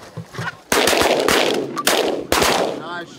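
Shotgun blasts during a goose hunt in a field, three loud close booms in quick succession with echoing tails, followed by a faint voice.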